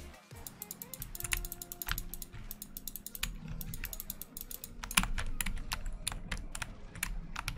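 Close, clattery typing on a computer keyboard during gaming, with bursts of rapid key presses and short pauses over faint game sounds in the background.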